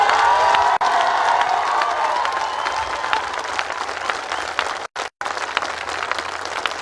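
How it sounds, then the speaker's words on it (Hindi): A large audience at a marketing event claps and cheers continuously, a dense roar of applause with scattered whoops, briefly dropping out twice near the end. "जिन जिन को वाकई बनना है वही लोग ताली बजाएंगे"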